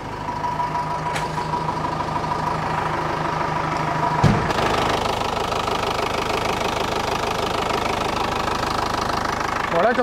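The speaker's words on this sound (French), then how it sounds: "Bon bah au moins le moteur il tourne," A Mercedes OM 314 diesel engine idling and warming up, a steady clattering knock close by with a sharp metallic clunk midway, running on without pause.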